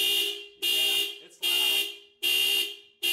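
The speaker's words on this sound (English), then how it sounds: "I'll set the alarm. It should start honking, and I'll grab the key fob and turn it off." A Toyota car alarm, triggered by a faulty hood switch, blasts loud repeated honks in an even on-off rhythm, with four bursts separated by short gaps.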